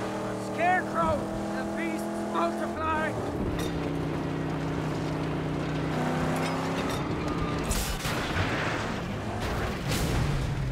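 An upgraded car engine drones in the Mad Max video game, a steady harmonic hum that drops and shifts in pitch as it drives, with someone talking over it.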